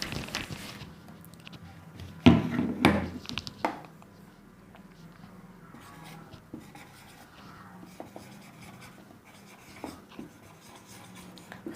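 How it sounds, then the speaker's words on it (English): A pen scratches across paper as a sentence is written out by hand during an English grammar lesson, producing soft intermittent strokes with a louder burst of scraping early on, then quieter scratching. "so now let me write down another sentence"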